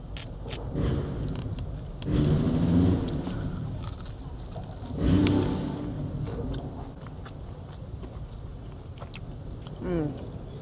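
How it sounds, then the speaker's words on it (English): Close, crunchy chewing and biting into fried chicken, with bursts of crisp crackling bites repeating every few seconds against a low background murmur. "This is what the chicken sound like."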